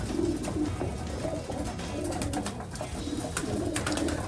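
Racing pigeons coo steadily in a dry loft, several birds overlapping in a continuous low, throaty murmur with soft wingy rustles, fairly close and without any talking.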